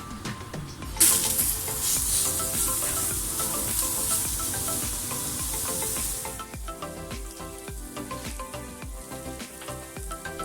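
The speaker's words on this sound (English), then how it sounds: "so grilling my onions" Onions sizzling loudly on a hot burger grill, a continuous bright crackling hiss that eases a little after a few seconds, with no talk over it.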